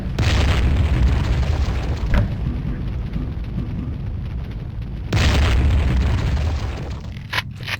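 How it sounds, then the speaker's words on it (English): Grenade launcher on a pulse carbine in Warhammer 40,000: Fire Warrior firing explosive rounds: two heavy, booming blasts a few seconds apart, each followed by a long rolling rumble, with a few sharp pops near the end. "This is the grenade launcher function on the pulse carbine."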